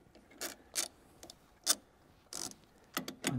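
Ratchet wrench on a long extension working loose the four nuts that hold the sharpening stone on a John Deere 7000 series forage harvester, heard as separate bursts of ratcheting clicks with short pauses between them, close by.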